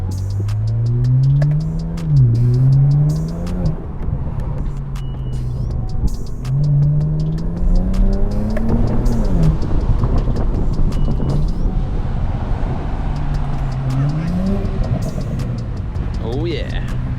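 A BMW 335i with the N54 engine drives in from around a corner, its exhaust rising and falling through several revving pulls, loud and close with wind buffeting the microphone and people talking over it.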